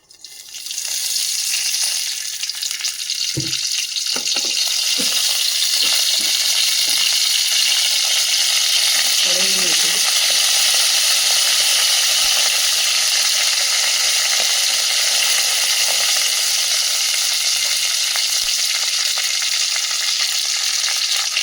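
Tempering for a cucumber thoran sizzles steadily in hot oil in a pan on a gas stove, a continuous loud hiss with a few soft stirring knocks and clinks near the start and middle.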